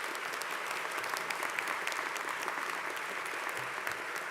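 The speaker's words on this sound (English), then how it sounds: "Let's give them a round of applause." An audience at the inauguration of the University of Texas at Austin's 31st president applauds in a sustained, dense burst of clapping that fills a large hall.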